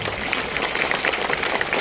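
A church congregation at a Bala Yesu feast Holy Mass in Yanjala claps loudly and steadily together, a dense, continuous patter of many hands filling the hall for about two seconds.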